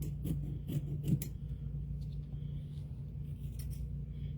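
Scissors snip straight across fabric or paper three times in quick succession, close and crisp over a low steady hum, then a few quieter rustles as the material is handled.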